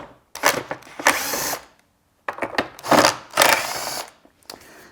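A power driver or drill with a T25 Torx bit zips screws out of a Briggs & Stratton overhead valve engine cover in several short whirring bursts separated by brief pauses, close and fairly loud.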